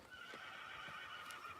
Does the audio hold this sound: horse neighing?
yes